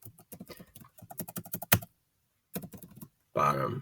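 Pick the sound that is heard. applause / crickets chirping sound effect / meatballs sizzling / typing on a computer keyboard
typing on a computer keyboard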